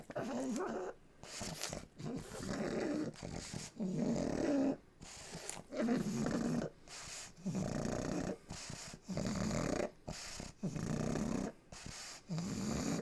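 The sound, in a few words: pug dog snoring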